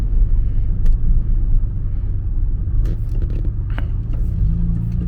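A 1986 Pontiac Fiero GT drives along a road, its low engine rumble and tire noise steady and close, with a few brief clicks and scrapes inside the cabin.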